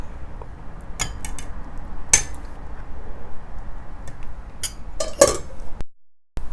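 A spatula clinks and scrapes against a pot while chana masala is served, producing a few sharp metallic taps and clanks spaced across a quiet kitchen background.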